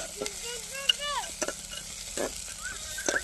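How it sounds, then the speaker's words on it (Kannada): Onions frying with kasuri methi for a village-style country chicken biryani, a steady sizzle broken by several sharp stirring scrapes and clinks against the pan, close and fairly loud with no talking. "ಚೆನ್ನಾಗಿ ಫ್ರೈ ಆಗಬೇಕು ಈರುಳ್ಳಿ"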